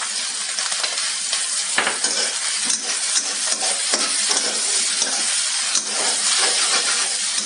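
Instant noodles with sea cucumber, ham, egg and seasoning being stir-fried in a wok, a dense continuous sizzle and hiss with scraping stirs, close and loud, no talking.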